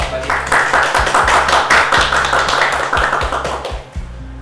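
A small audience at a community anthropology forum in Seoul claps to welcome a guest researcher from Seoul National University; a few close, distinct hands clap in an uneven rhythm against a low hum, tapering near the end.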